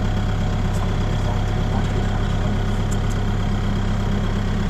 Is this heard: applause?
no